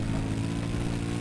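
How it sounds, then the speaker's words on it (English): Low rumbling engine drone of an attack helicopter in Battlefield 4, a steady rotor-like hum with strong low tones, held evenly for a moment with no gaps or talk. "Oh, there's a attack chopper."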